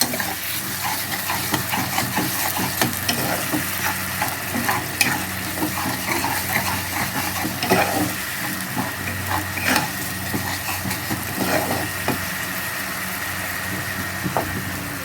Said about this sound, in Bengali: যে অবশিষ্ট অংশটা কিছুটা ছিল সেটার মধ্যে একটু জল দিয়ে দিচ্ছি।